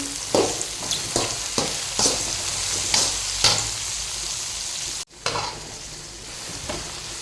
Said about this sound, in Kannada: ಈಗ ಬಟಾಣಿ ಮತ್ತು ಬದನೆಕಾಯಿ ಚೆನ್ನಾಗಿ ಫ್ರೈ ಆಗಿದೆ